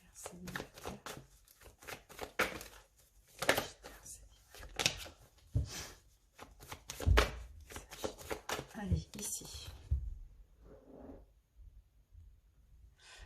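Tarot cards are cut and shuffled in repeated papery riffles and flicks, close and fairly quiet, with someone speaking French over much of it.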